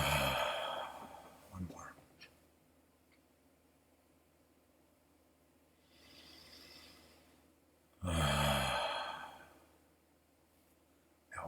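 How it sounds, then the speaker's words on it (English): Deep breaths during a guided meditation. A few slow, audible inhale-exhale sighs come in separate bursts with quiet stretches between them, and a short spoken phrase is heard. "A couple breaths."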